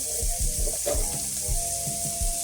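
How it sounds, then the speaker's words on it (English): Water poured into a cooking pot for curry beef, a close gurgling pour with bubbling pulses over a soft sizzling background. "We're going to add a little bit of water."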